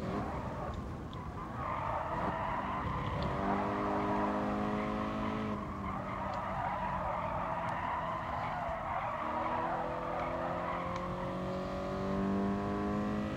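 Race car engine in Gran Turismo Sport, a loud continuous drone rising and falling through gear shifts with tire skids and squeal through a big corner and chicane, with no talk over it.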